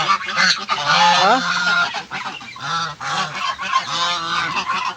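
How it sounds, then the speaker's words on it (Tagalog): Many geese honk loudly and repeatedly on a farm in Taal, Batangas, a close, overlapping flock chorus of nasal calls that carries on without pause. "Ito yung gansa guys, napakaraming gansa oh."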